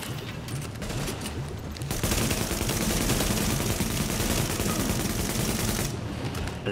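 Sustained automatic gunfire fills a firefight in The Division, a dense, continuous rattle of rapid shots that grows louder in the middle and stays loud and close throughout, with no talking.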